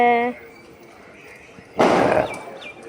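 A single sharp firecracker burst during a home Diwali celebration, loud and close, with a brief decaying crackle after a short stretch of quiet; a voice is heard briefly at the start.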